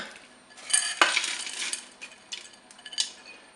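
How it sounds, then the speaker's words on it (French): Diced mixed vegetables (macédoine) tipped into the metal bowl of a Cookeo multicooker, a sharp clatter followed by a rustling, scraping spill and a few lighter settling clinks, close and fairly quiet. "Je dépose dans la cuve la macédoine"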